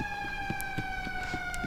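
Siren of an ambulance in the video game GTA, a steady wailing tone that drifts slowly downward, heard continuously and fairly clearly without talk.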